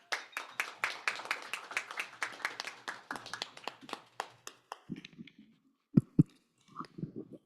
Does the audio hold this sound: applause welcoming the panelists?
yes